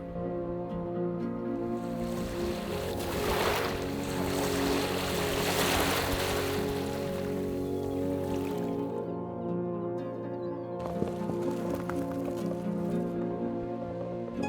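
Wind gusts across a bay in thick fog around a fishing boat, a continuous broad rush that swells and eases, with a low steady hum from the boat underneath and no speech.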